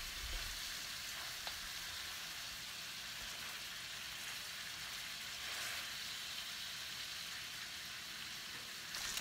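Pork loin chops frying with garlic in a pan, a steady even sizzle and crackle throughout, close and continuous without pauses.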